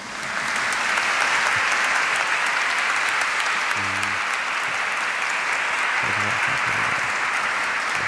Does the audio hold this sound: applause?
yes